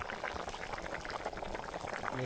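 Chicken curry boils in a pot over an open fire at a night camp by a large dam, a dense, steady bubbling and popping that runs continuously at close range.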